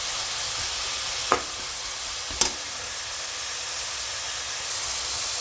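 Vegetables for veg Hakka noodles fry on high heat in a pan with a little salt and pepper. A steady, close hiss continues throughout, broken by two brief clicks, with no voices.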